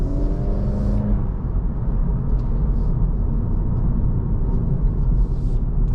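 A 2024/2025 Acura Integra A-Spec Tech heading into a turn, heard from inside the cabin as a steady low engine and road rumble with faint tire whir, constant in level and with no talking.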